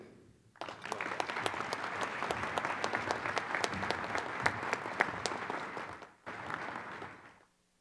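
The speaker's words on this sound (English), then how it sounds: "Please join me in one more round of applause" Audience at a conference bursts into sustained loud applause that lasts several seconds, breaks briefly, then resumes and fades out.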